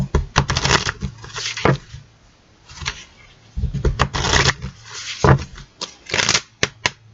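Oracle cards are shuffled by hand in repeated crisp riffling bursts with short pauses between, close and fairly loud, with a faint low hum underneath.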